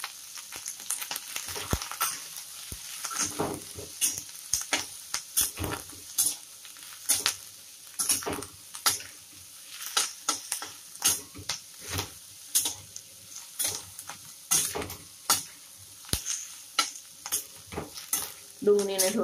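Turmeric roasting in oil gives a light sizzle under repeated sharp ladle scrapes and clicks in an irregular rhythm, close and fairly quiet, with some talk mixed in.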